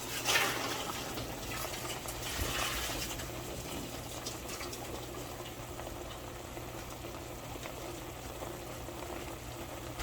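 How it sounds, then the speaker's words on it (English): Cooked pasta being drained, with a steady rush of water and steam running continuously, a louder splash near the start and another surge partway through. "So the pasta's done. First thing I'm going to do is drain it off."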